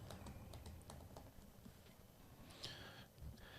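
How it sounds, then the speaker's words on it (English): Fast tapping on a computer keyboard with a faulty B key, a steady run of light clicks under a low background hum, with no talk. "I can't Google anything that has the letter B in it because my keyboard doesn't work."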